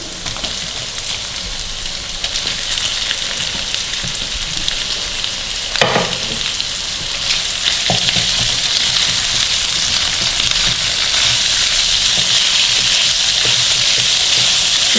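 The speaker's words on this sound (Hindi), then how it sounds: "थोड़ा सा इसको भूनेंगे ताकि हमारा ये सौते हो जाए" Chicken cubes sizzle steadily in a hot pan for a samosa filling, a continuous bright frying hiss with occasional stirring scrapes, close and loud, with no talking.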